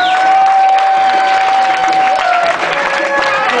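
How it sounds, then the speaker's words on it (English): At a wedding reception, guests applaud and cheer as the bride's parents are introduced. The loud, close clapping runs beneath a sustained musical tone. "A nice round of applause, please."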